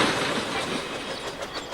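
A train rolls past close by at a level crossing with the gates down, a loud, steady rumble with a continuous rattle of wheels on track.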